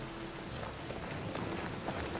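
Steady, dense rainfall hisses evenly and continuously throughout, a close wash of drops in the Skyrim video game with the Vivid Weathers mod.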